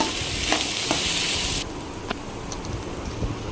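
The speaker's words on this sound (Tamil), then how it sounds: "கேரட், பீன்ஸு, உருளைக்கிழங்கு ஆட் பண்ணிவிட்டு நல்லா மிக்ஸ் பண்ணி விடலாம்." Carrots, beans and potatoes sizzle in a hot pan as they are stirred and mixed, a steady broadband fry with a few sharp scrape ticks, dropping quieter after the first half.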